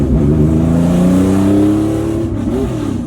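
A 1973 Porsche 911 Carrera RSR Le Mans race car recreation revs hard and close, its loud rising and falling drone filling the clip with no talking.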